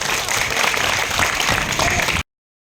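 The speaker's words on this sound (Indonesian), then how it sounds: "Tepuk tangan dong." An audience of students claps in a school hall in Bali, a dense burst of applause that lasts about two seconds and then cuts off abruptly.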